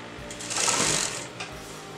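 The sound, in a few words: sewing machine stitching kurta lining fabric at armhole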